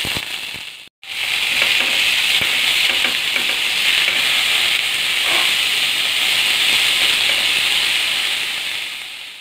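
Ponnaganti greens frying in a pan with green chillies and ginger give a loud, steady sizzle and hiss. It follows a brief silent gap at the start, carries faint stirring clicks, and fades slightly at the end.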